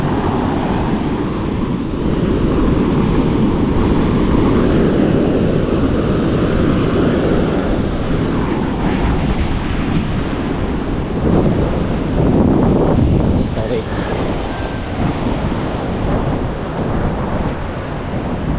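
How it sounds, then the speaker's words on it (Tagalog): Strong monsoon wind roars steadily across a beach, buffeting the microphone with a loud, constant rumble and hiss, while waves and surf blend into the noise for the whole stretch. "Lakas sa hangin."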